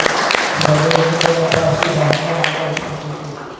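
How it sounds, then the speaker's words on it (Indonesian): Scattered claps from an audience at a cooperative's annual members' meeting, honoring Pak Cisco: sharp, evenly spaced hand claps over a steady low hum and tone, fairly close and moderately loud. "Jadi tepuk tangan untuk Pak Cisco."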